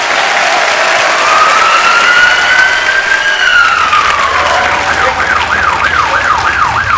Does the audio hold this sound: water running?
no